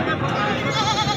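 Goats bleat loudly and continuously up close at a livestock sale of breeder-quality Makhi Cheeni goats, a dense sustained wavering cry with voices mixed in.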